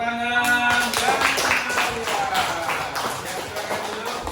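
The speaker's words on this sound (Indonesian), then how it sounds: "Baik, terima kasih. Tepuk tangan." A school class claps hands together on request, a burst of quick, rhythmic claps following a brief voice, fairly close in a classroom.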